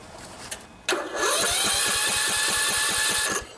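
A Briggs and Stratton OHV Intek riding mower engine is cranked by its starter, then catches and runs with a loud, rapid, rough chugging that carries on for a few seconds before cutting off.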